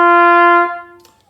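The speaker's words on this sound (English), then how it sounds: "you put the mouthpiece in the trumpet and you can get a nice trumpet sound like this" A trumpet fitted with its mouthpiece sounds one sustained, bright, clear note, loud and close, that holds steady and then fades away.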